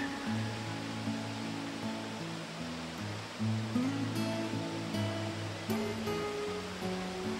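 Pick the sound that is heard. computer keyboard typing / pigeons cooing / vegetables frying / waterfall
waterfall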